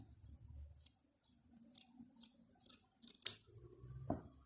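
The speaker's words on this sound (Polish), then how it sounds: "mniejsze nożyczki" Small scissors snip thread and fabric while a realistic hobby horse is sewn, giving a few soft scattered clicks and one sharper cut near the end in a quiet room.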